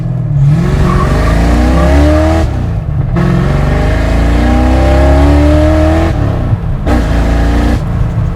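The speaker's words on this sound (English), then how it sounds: "Yuri, squeal Kyle's tires." Fox Body Mustang GT with a loud exhaust, revving hard and squealing its tires in long rising bursts, very loud and close, with brief drops between pulls and no talking.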